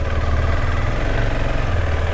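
Close and steady, the single-cylinder engine of a KTM Adventure 390 motorcycle chugs with a deep rapid pulse while being ridden through an industrial area toward an off-road patch, a constant vibrating drone with no talk.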